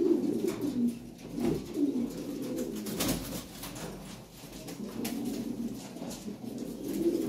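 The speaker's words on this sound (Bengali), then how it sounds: "টপ কোয়ালিটি একজোড়া কবুতর" A large, top-quality pair of Lahore Siraji pigeons coos steadily in a run of low, rolling calls, nearby and moderately loud, with no one talking.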